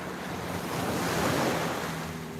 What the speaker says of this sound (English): And the waves are not known to be super big here.